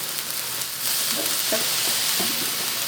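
Melientha leaves and egg stir-frying in a wok, a bright continuous sizzle with scraping stir strokes, close and fairly loud.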